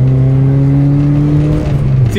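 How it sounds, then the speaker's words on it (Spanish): Car engine on a road with a manual gearbox, a loud sustained rev held steady, then a throttle blip as the driver downshifts to second gear to overtake a motorcycle, running alone without talk. "vamos a hacer golpe de gas, segunda y pasamos este man de esta moto"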